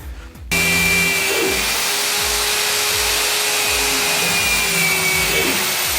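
A power drill boring a screw-sized hole through wood for a mobile workbench build, starting abruptly and holding a steady, loud whine throughout with faint rhythmic low knocks beneath.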